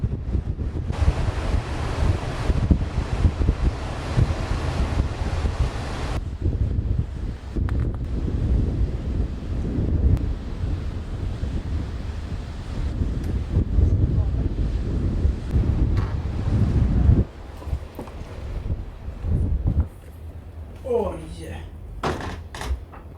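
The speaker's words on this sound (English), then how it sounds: "It's extremely windy today." Strong wind buffets the microphone in heavy, roaring gusts on an isolated island in Sweden's Pater Noster archipelago, with surf-like rumble and occasional voices breaking through near the end.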